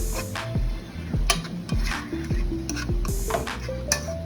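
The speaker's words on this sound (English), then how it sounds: "Stir it around, mix it around with everything." Seafood Alfredo stirred in a pot, a spoon scraping and knocking repeatedly against the metal in an uneven rhythm over a steady sizzling hum, close-up and moderately loud.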